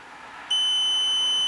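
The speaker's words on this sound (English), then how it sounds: "You guys will hear the beep." A single sharp, high electronic beep from an RCBS ChargeMaster powder scale sounds and holds steadily for about a second against faint room hiss.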